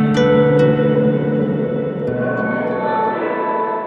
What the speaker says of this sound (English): So this is Lossy. It's a pedal collaboration between Goodhertz and Chase Bliss